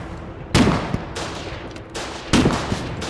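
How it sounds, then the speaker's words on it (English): Bursts of a mounted machine gun in a video game: two loud, sharp volleys a couple of seconds apart, each a quick clatter of shots, with quieter rumbling between them and no talk. "Mounted machine gun."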